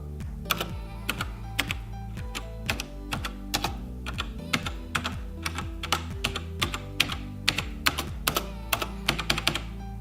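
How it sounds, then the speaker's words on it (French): Keys clack on a budget mechanical gaming keyboard in quick, uneven bursts, crisp and close, with no voices, over a steady low background tone. "c'est des claviers mécaniques, donc par définition, ça fait du bruit"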